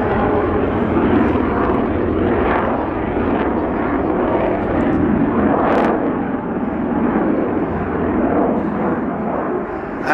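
Hawker Hunter jet making a slow low pass at the East Fortune Airshow in 2009, a loud continuous engine roar with a steady broadband rush that holds for the whole stretch and swells slightly as it goes by.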